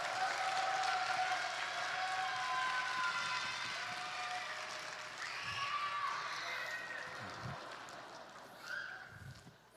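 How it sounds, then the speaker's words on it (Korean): A congregation at a Christian school's dedication worship service in a Korean church applauds the school board chairman, with broad steady clapping and some tonal sounds over it, easing off toward the end. "다시 한번 큰 박수 쳐주십시오."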